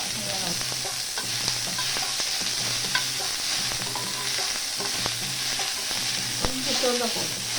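Onions sizzling with chana dal and urad dal in a pan, a constant frying hiss broken by repeated scraping stirs of a spoon, close and moderately loud with no talk.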